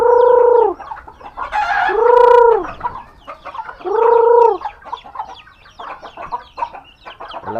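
Backyard chickens, some of them fighting cocks, give loud, drawn-out nasal calls in three long bursts, with choppier clucks and rustling in between, all close by.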